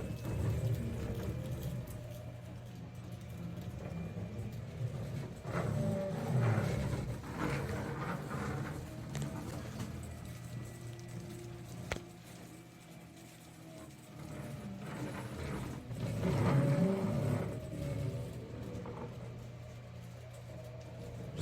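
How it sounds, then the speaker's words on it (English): A CNC machine's motors drone and grind unevenly as it travels in circles, a low mechanical hum that swells and fades in rough, repeating surges with faint clicks and whines, fairly quiet and with no talk. "listen to it when it's doing circles."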